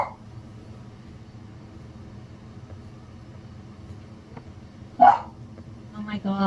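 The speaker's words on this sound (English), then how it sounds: "my mom's dog's barking at that cat" A single sharp dog bark, aimed at a cat in a video game, rings out once near the end over a steady low background hum.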